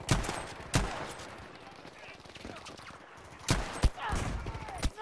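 Gunfire in a Battlefield 5 match in the Solomon Islands jungle: sharp shots crack out near the start and again toward the end, with rapid distant bursts rattling between them under a low game background.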